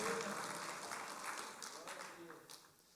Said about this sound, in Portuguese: Aquele que quer dar uma salva de palmas para o Senhor